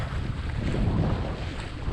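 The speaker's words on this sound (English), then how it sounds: "We've got the engine off and sails up." Sailboat running under sail with the engine off near Woburn Bay, Grenada, giving a steady broadband rush of wind over the microphone and water noise with no voices.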